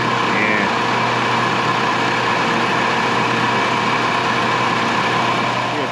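A 2007 Dodge Caliber-era Cruiser's 2.4-liter four-cylinder engine idles steadily up close, a constant low drone with a slight vibrating throb and no pauses.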